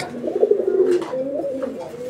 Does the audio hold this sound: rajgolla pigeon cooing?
yes